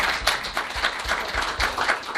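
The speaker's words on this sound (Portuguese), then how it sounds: "Batam palmas." A live audience at a talk-show style discussion event applauds in a rough, rhythmic patter of claps that holds steadily at moderate loudness throughout.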